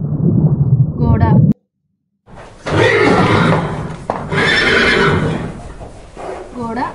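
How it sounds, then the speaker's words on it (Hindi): A horse neighing with loud, close, wavering whinnies, broken by a brief silence and followed by more neighing and breathy snorts. "घोड़ा।"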